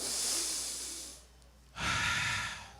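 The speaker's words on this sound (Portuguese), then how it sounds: "Dá uma cafungada assim, ó." A deep nasal sniff drawn in by a congregation at a church worship service, a loud, close breathy inhalation with a softer breath sound before it.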